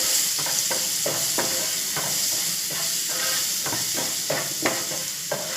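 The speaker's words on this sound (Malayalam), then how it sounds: "നമ്മൾ നേരത്തെ പേസ്റ്റാക്കി വെച്ചിരുന്ന ഉള്ളിയും വെളുത്തുള്ളിയും ഇട്ട് കൊടുത്തിട്ട് ഒന്നും കൂടെ നല്ലോണം" Onion and garlic paste sautéing in a hot pan gives a steady, fairly loud sizzle, broken by regular scraping stirs about every half second, with no voices.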